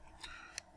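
One crisp computer mouse click, then a second softer click just after, close by and faint in a quiet room.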